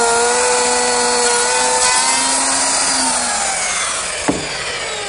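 Power tool cutting a dado groove into the underside of a wooden secretary desk top, a steady whining cut with sustained tonal harmonics that slowly fades, then ends with a brief knock.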